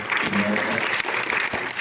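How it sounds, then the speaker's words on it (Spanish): A short burst of audience applause thanking a speaker at an academic event on obstetric violence, dense clapping at steady volume with a faint voice underneath. "le agradecemos con un fuerte aplauso a usted"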